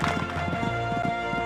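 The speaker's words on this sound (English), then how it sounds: "This horse is really jumping well for him." Galloping horse hooves in the Equestriad 2001 video game during a Kentucky three-day event cross-country course, a loud steady clip-clop rhythm with game music tones running underneath.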